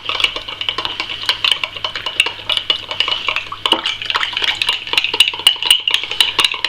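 A spoon stirs mixed berry fruit wine must in a vessel, making rapid, close, steady clinks and scrapes against the sides. The sound runs continuously with no voices.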